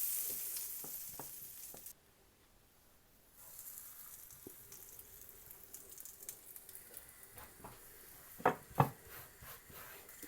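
Butter sizzles softly as an onion paratha cooks on a hot tawa, a faint steady hiss broken by quiet scrapes and a few sharper clicks of utensils.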